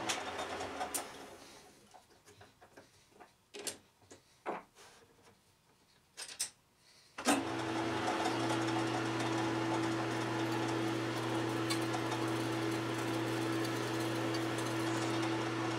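A metal lathe machining aluminum gives scattered clicks and knocks, then starts up and runs with a steady, loud tonal whine and hum for the remaining half.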